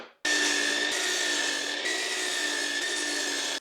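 A power saw bites into a piece of wood in a small workshop, a loud, steady, close whine that starts abruptly and holds for a few seconds.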